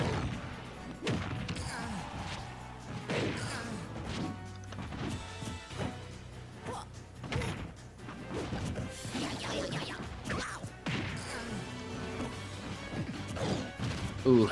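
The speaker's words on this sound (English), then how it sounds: "another down smash. That really did some shield damage" Video game smash and hit effects from a Super Smash Bros match, Luigi against Pokémon Trainer, with repeated crunchy impacts, whooshes and thuds in a busy stream of game sounds.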